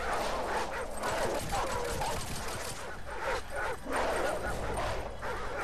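Several dogs bark and yip aggressively in Call of Duty 4: Modern Warfare, a loud, continuous flurry of barks and whimpers close by over rumbling game ambience.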